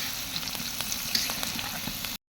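Greens frying in a pan with green chili, garlic and onion, giving an even, moderately quiet sizzle with faint crackles that cuts off abruptly after about two seconds.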